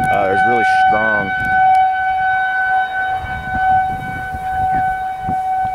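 Civil defense tornado warning sirens wail continuously during a storm in Lincoln, Nebraska, loud and sustained over wind, with voices talking early on.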